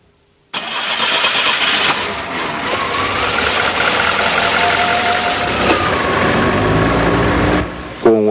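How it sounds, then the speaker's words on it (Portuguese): A car engine cranks and catches, then idles steadily and loudly close by, its running sound holding even as it warms up toward normal operating temperature ahead of idle speed and CO adjustment. "Agora, é só dar a partida no motor e aguardar que ele atinja a temperatura normal de trabalho."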